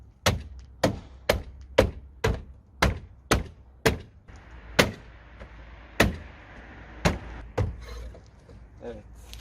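Hard plastic thunks ring out as a window louver is forced onto a BMW F10, about a dozen sharp knocks in an uneven rhythm, close and loud, with someone talking quietly in between.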